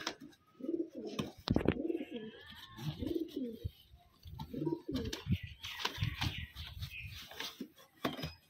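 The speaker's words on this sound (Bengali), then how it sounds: "দেখুন এই হচ্ছে 1 নম্বর পায়রা" Pigeons cooing in repeated soft, throaty bursts close by, with wing flutters and handling noises in between and no speech.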